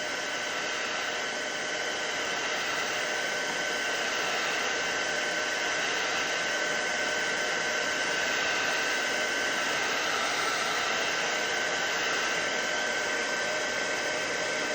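Heat gun blowing hot air steadily onto a book's golden seal to soften the binding adhesive underneath, a continuous loud broadband whoosh throughout with no pauses or talk.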